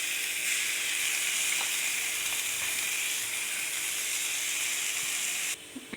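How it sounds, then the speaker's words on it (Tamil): Chopped onions fry in a pan, with a steady loud sizzle and hiss for several seconds, and a few faint stirring clicks. The sizzle drops off near the end as ginger garlic paste goes in. "இப்போ ஆனியன் நல்லா ஃப்ரை ஆயிடுச்சு. இது கூட 2 டீஸ்பூன் இஞ்சி பூண்டு பேஸ்ட் போட்டுக்கலாம்."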